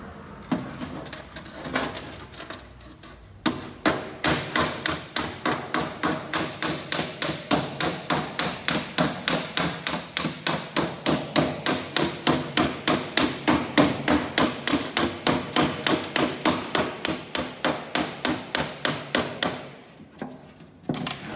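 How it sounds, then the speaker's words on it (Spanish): Rapid, steady hammer blows on a thin, fragile sheet-metal body panel backed by a dolly in a panel-beating shop, dozens of sharp metallic taps with a ringing tone running in an even rhythm for most of the stretch, loud and close with no talk. "Ahora estoy repasando con el martillo del aguantador todas las pequeñas cosas que tiene."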